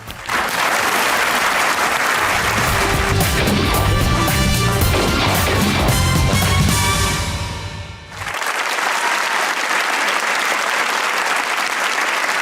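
Loud studio audience applause on a Hindi-Urdu comedy show, a dense wash of clapping with heavy low thumps that ebbs briefly near eight seconds, then resumes steadily to the end.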